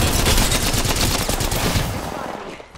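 Rapid bursts of automatic gunfire from a shooter video game, loud and dense for about two seconds before tapering off.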